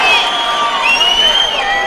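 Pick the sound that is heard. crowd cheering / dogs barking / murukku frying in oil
crowd cheering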